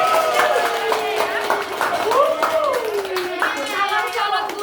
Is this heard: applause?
yes